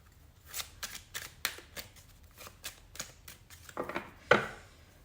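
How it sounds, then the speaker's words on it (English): Cards being shuffled up close in a series of quick riffling bursts, ending with a sharper snap as the deck is squared. "So that's why I'm shuffling them again."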